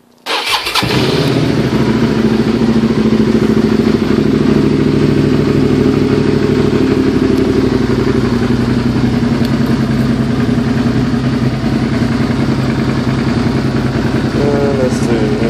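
Motorcycle engine cranks and catches, then settles into a steady, loud idle that runs continuously close by, with a low rumbling drone throughout.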